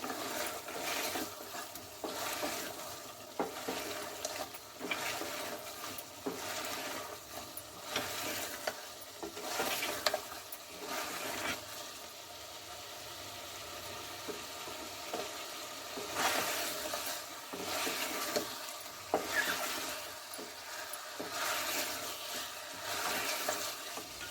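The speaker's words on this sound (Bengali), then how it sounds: "এবার মশলাটা মাংস ভালো করে কষিয়ে নেবো" Country chicken with coriander and cumin powder sautés in a pan, giving a low, continuous sizzle with repeated scraping stirs of a spoon, fairly quiet and without speech.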